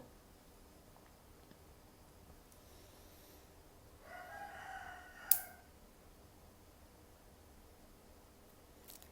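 A rooster in a rural Thai setting crows once in the distance, a faint drawn-out call rising midway through an otherwise quiet, hissy outdoor stretch, followed by a brief sharp knock.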